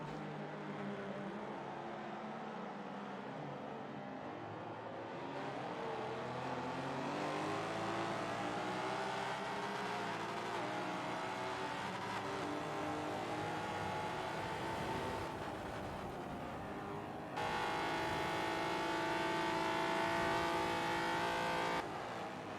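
Historic touring race car at a championship round, with its engine heard faintly at a distance, revving high and bouncing off the rev limiter as the pitch climbs and stutters through gear changes over about twenty seconds.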